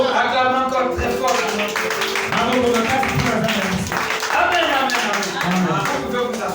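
A church congregation applauding: dense, sustained clapping fills the room throughout, loud and close, with voices audible underneath.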